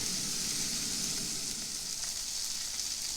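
Steady, intense sizzling of steak searing on a very hot griddle, a continuous hiss with no talking.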